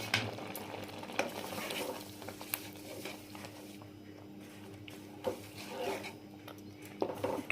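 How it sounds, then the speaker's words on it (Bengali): Mango chutney with sugar simmering in a pot, soft bubbling and gentle sizzle under intermittent stirring scrapes and occasional knocks, close and fairly quiet, without talk. "একটু ফুটুক, চিনিটা গলা পর্যন্ত"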